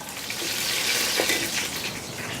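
A spring roll frying in oil in a Chinese basket, a steady close hiss and fine bubbling sizzle that holds evenly throughout with no talk.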